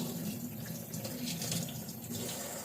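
Warm water runs steadily from a tap into a sink, a continuous close gushing splash that stays even for the whole stretch with no voices.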